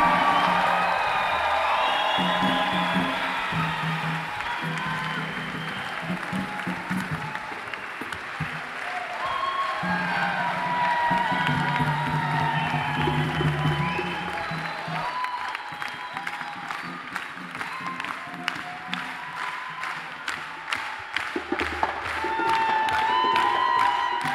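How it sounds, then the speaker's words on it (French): Audience applause after a festival concert by a singer and an international orchestra: sustained clapping from a large crowd with occasional whoops and cheers, steady throughout and thinning into sharper individual claps toward the end. "Je vous demande de les applaudir bien fort."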